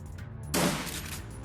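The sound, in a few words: gunfire in Shadowrun: Dragonfall video game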